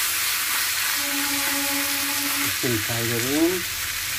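Pork frying in a hot pan for Chinese curry, seasoned with salt, sizzles loudly and evenly up close while someone speaks over the steady hiss.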